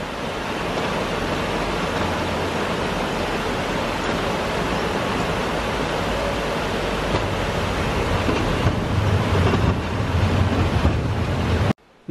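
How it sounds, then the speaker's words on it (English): Water pours over a weir on the River Irk in a steady, loud, roaring rush that continues unbroken for the whole clip. "here is the weir on the Irk that unless you work at the paint factory, no one gets to see"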